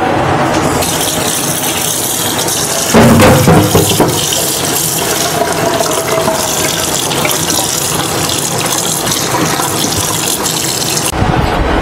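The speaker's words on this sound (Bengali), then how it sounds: "तो आमी भालो करे चिकेनटाके धुए निচ্ছি।" Raw chicken being washed under a running tap makes a loud, steady splash of water into a sink, with rattling and sloshing as the pieces are moved and a brief heavier gush partway through.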